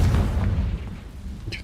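A Confringo explosive spell is cast in Hogwarts Legacy, landing as a loud, low boom that rumbles for more than a second and then slowly fades, with a faint crackle near the end.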